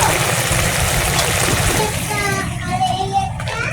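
Water poured into a pan of fish curry with rupchand fish, pointed gourd, tomato and potato makes a close, loud splashing stream that thins out as a voice starts talking.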